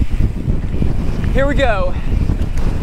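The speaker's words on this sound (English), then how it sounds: "Windy as hell" Strong, steady wind roars and buffets the microphone on the Two Pines mountain bike trail in Pacifica, California, a continuous loud rush throughout, with a brief shout of speech in the middle.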